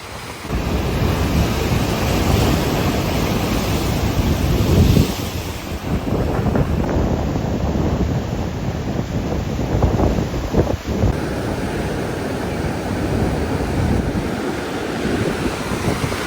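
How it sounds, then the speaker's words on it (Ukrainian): Powerful ocean surf churning with foam on the shore at Tenerife, a loud continuous roar of breaking waves mixed with heavy wind buffeting the microphone, swelling and receding without pause. "Подивіться сьогодні, який океан могучий. Аж піна, подивіться."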